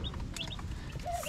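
Baby meat chickens, a brood of about eighteen newly arrived chicks, peep with high thin chirps scattered over a steady low rumble of background noise, close by.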